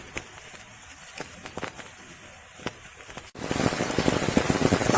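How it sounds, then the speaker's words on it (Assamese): Rain falls steadily outdoors during a monsoon walk by a small river in Assam. It starts as faint scattered patter and turns into a loud, dense downpour after about three seconds. No one speaks. "তামান বৰষুণ দি আছে"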